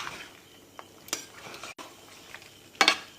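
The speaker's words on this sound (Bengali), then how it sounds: "যতক্ষণ জলটা না মরছে আমি ততক্ষণ আস্তে আস্তে কষিয়ে নেব" Ground spices sautéed and stirred in a pan until the water cooks off, with soft scraping and sizzling, scattered clinks of a utensil against the pan, and one sharp metallic knock near the end.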